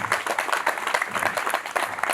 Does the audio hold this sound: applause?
yes